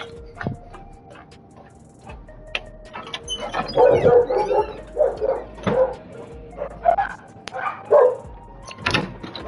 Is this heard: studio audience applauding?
no